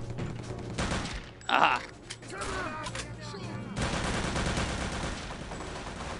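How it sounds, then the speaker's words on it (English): Gunfire in the VR shooter Return to Castle Wolfenstein, a steady run of fairly loud shots rattling throughout, with a brief startled exclamation from a player partway through. "Oh, somebody's shooting at me."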